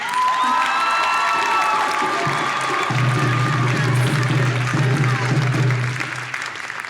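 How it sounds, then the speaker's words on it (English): A large audience at a university fall-winter commencement ceremony claps loudly and steadily, with cheers, whoops and shouts mixed in. The applause starts at full strength and eases slightly near the end. "Can we give a round of applause for that?"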